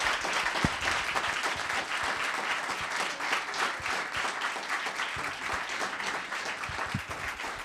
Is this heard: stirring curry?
no